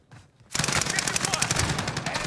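Rapid hip-fire gunfire from Call of Duty: Warzone, a loud burst of automatic shots that begins abruptly after a brief quiet moment and continues without pause.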